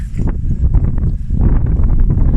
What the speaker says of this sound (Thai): ลมก็จะแรงหน่อยนะคะ